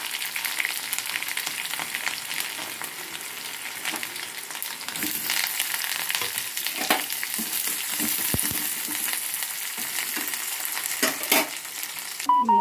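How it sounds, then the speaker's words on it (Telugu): Tempering spices crackle and sizzle in hot oil in a pan, a dense, continuous frying hiss with occasional stirring scrapes, close and steady throughout. "ఆయిల్ పెట్టుకున్నాను, తాలింపు వేసేసుకున్నాం."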